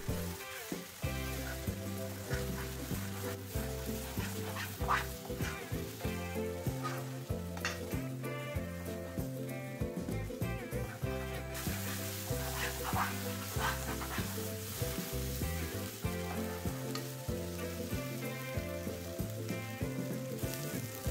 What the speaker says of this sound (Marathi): ह्यानंतर तेल सुटेपर्यंत फिरवत राहावे